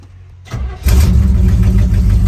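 A vintage RV engine that has been sitting a while cranks briefly, then catches and settles into a loud, steady running rumble, close by.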